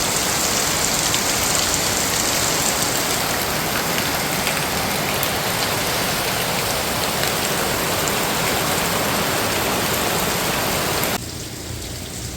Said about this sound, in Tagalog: Dahil po sa malakas na ulan, ay nagdadanaw na po dito sa aming harapan.